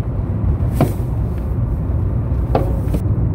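A car with a loud exhaust that seems in need of a tune-up passes, giving a continuous low rumble broken by a few sharp, gunshot-like cracks from the exhaust.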